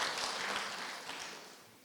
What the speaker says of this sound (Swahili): Makofi kwa mama hawa wote